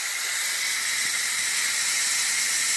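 An Instant Pot pressure cooker making mac and cheese vents its steam, a steady, loud, unbroken hiss that holds at an even level throughout with no other sounds.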